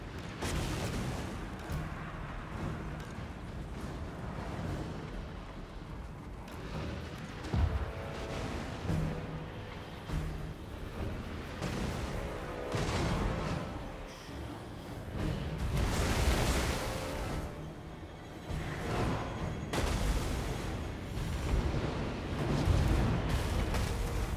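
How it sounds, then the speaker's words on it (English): Warp lightning cannon firing in the Total War: Warhammer II strategy game, heard as repeated crackling booms and blasts over a rumbling battle din, with several louder bursts spread through the scene. "Warp lightning cannon."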